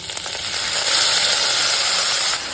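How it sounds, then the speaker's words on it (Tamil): Coriander leaves sauté in a hot pan with roasted dal and chillies, giving a loud, steady sizzle and frying hiss close by, with no voices. "பருப்பு பொன்னிறமாக எடுத்து இப்போது கொத்தமல்லியும் சேர்த்து வதக்கிக்கலாம்."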